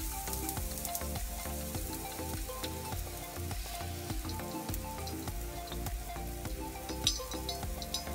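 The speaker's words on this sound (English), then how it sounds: "lots of sparkles will come out while frying the chive" Chives sizzle and crackle steadily in hot oil in a pan, a close continuous frying hiss with scattered pops and a faint clink, and background music playing throughout.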